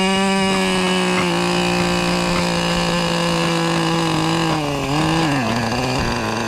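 A 15-size nitro engine in a 20-year-old HPI Nitro RS4 RC car idles rich and steady with a loud, buzzy, close-up drone whose pitch dips and wavers briefly near the end, with no talk over it.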